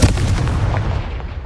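A Confringo fire spell from Hogwarts Legacy bursts with a loud, booming blast that cuts in at once and rolls off into a decaying rumble.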